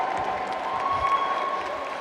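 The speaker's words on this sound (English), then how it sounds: "Give Stormageddon a round of applause." A crowd at a roller derby match applauds a skater, a short burst of steady mid-distance clapping mixed with general crowd noise and no clear voices.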